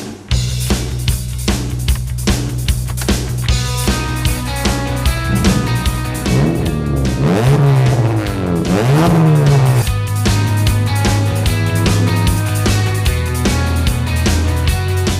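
A 2012 Toyota Etios race car engine revs hard on a track and climbs through gears, pitch rising and dropping with each shift, loud and close over a steady beat of music.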